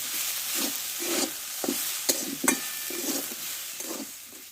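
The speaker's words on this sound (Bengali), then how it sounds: "সবশেষে দিব কোচানো ধনে পাতা দিয়ে একসঙ্গে ভালো করে কষে দেবো একটু" A spiced mixture with chopped coriander leaves is stir-fried in a pan for a flour-based snack: a steady hiss of sizzling runs under repeated scraping and stirring strokes, with a couple of sharp utensil clicks.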